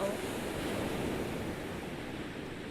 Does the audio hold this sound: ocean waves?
yes